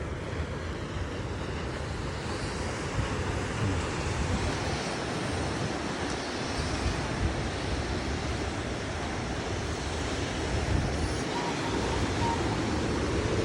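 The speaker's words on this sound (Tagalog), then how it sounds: "At ang alon, dahil kababagyo lang, ang lalaki." Big waves on the sea after a storm surge in a constant heavy roar near the old lighthouse at Baluarte, Luna, La Union, mixed with wind buffeting the microphone and no pauses.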